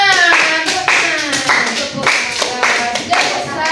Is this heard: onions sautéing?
no